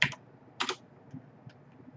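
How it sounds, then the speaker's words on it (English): Keys on a computer keyboard are tapped a few times while a password is entered during an ESXi server setup, two brisk clusters of clicks followed by lighter isolated taps, close and clear in a quiet room. "Put in our course password."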